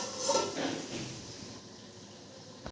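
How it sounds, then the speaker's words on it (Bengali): A metal lid goes onto a cooking pot of mutton with a few light clinks and scrapes near the start, followed by a soft, low simmering hiss that fades to quiet. "একটু ঢাকা দিয়ে দিচ্ছি।"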